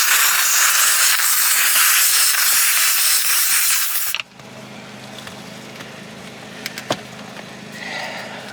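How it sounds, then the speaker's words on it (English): A hot steam cleaner hisses loudly while blasting grime out of a car's interior, a harsh continuous spray lasting about four seconds before cutting off abruptly and leaving quieter handling noises with a couple of brief knocks. "the steam cleaner is really hot, so it kills bacteria and it breaks up all the grime"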